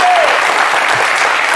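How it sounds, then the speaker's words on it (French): Dense applause from an audience fills the whole moment, loud and continuous, as a cheer goes up for a chef attempting a Guinness world record for cooking. "Ça s'applaudit."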